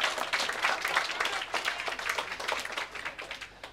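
An audience claps for a senator being introduced at an energy improvement kick-off event, a fairly faint but steady scatter of hand claps lasting a few seconds.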